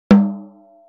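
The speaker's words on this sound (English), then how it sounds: "It's my own snare drum, a pork pie 13x7 maple snare." A single hit on a Pork Pie 13x7 maple snare drum with the snares off, ringing alone as a sharp, close attack with a short tonal sustain that decays within a second.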